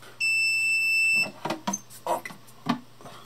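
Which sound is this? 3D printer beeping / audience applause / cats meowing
3D printer beeping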